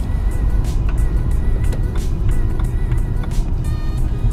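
A lifted pickup truck's engine rumbles low and steady close by as it drives past, with a constant heavy roar and faint scattered clicks and ticks on top.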